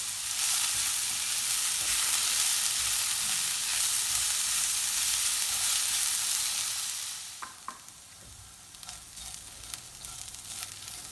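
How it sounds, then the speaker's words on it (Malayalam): Bitter gourd sautés in a pan with a loud, steady frying hiss that drops off after several seconds, followed by scattered spoon scrapes and light clinks, close by with no voices. "ഇത് നന്നായിട്ട് വഴട്ടിയെടുക്കണം."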